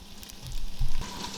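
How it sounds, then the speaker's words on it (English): Pieces of Conecuh sausage hit hot oil, a soft hiss rising into a brief louder sizzling burst, then settling into a quieter steady frying crackle. "We're going to toss this sausage in there and get it all browned and nice and tasty."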